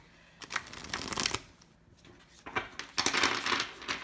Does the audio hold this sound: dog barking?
no